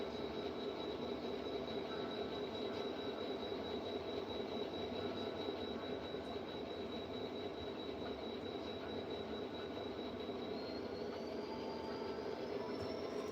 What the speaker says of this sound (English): So this train's rolling now, everybody, and that's good.